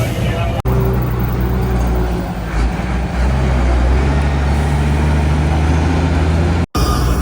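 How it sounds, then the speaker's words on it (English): A small local bus rolls through a town in El Salvador, its engine giving a loud, steady low drone throughout. Muffled voices sit underneath, and the sound briefly cuts out near the end. "Got on this little local bus."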